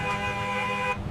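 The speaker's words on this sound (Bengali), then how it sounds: "বাসের হর্ন বাজাচ্ছি" A cartoon bus horn honks in one steady, bright tonal blast, loud and up close, ending abruptly with nothing else around it.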